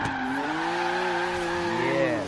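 A turbo BMW M2 drifts in Forza Horizon 3 with its rear wheels spinning, a loud strained engine wail and squealing tires holding steady tones, close and continuous.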